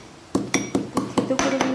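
Fresh ginger is crushed in a kitchen, giving six or seven sharp, fairly loud pounding knocks at a steady beat, followed by a sustained ringing metallic tone from the utensil.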